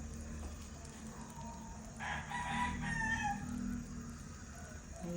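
A native chicken rooster crows once partway through, moderately loud over a steady low background hum, with faint clucking around it.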